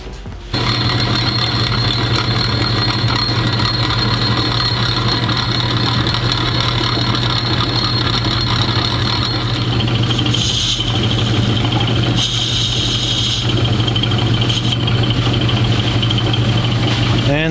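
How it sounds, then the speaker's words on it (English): A metal lathe turned down to a reduced speed for knurling runs with a steady motor hum and a constant whine, joined later by short bursts of harsher, brighter mechanical noise. "I'm going to turn the lathe speed down a little bit so I can knurl, get a little bit more torque on there"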